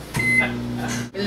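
Microwave oven keypad being set to 1200 and started, a short high electronic beep followed by the low steady hum of the oven starting up, with faint background noise.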